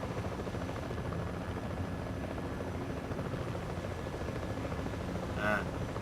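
Helicopter in the video game Battlefield Play4Free, a steady low whirring rotor drone held at moderate level throughout, with a brief brighter whine near the end.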